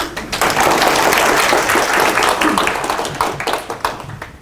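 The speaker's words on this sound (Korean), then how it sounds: "수고해주신 아샬님께 다시 한번 박수" Audience at a Spring Camp 2016 developer conference talk on test patterns claps for the presenter: a dense, loud burst of many hands that thins toward the end into scattered separate claps.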